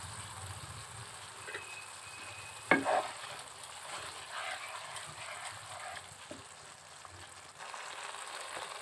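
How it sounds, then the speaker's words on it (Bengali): Ginger and dried chili paste fry in a pan with a soft continuous sizzle, stirred now and then with faint scraping, and one brief louder clatter partway through, all fairly quiet. "এভাবে একটু নাড়তে থাকবো।"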